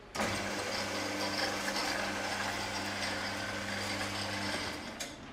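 A 9craft MS250G 1500W 220V metal band saw runs in automatic mode, giving a steady, loud mechanical drone with a continuous low hum throughout that fades slightly near the end, with no voices.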